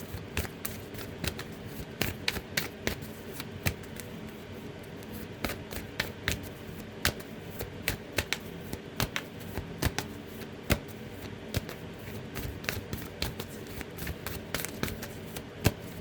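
Tarot cards are shuffled at close range in a long, soft riffling stream broken by small irregular snaps and flicks, with no talking.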